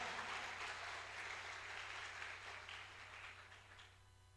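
A church congregation applauds, a dense wash of many hands clapping that carries on steadily and slowly fades, heard from a distance with no talking.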